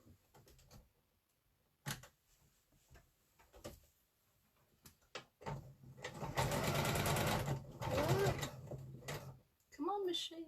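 A sewing machine stitches tulip quilt blocks, first in a few brief starts and then in two sustained runs of fast, close mechanical whirring. Someone speaks softly between the bursts.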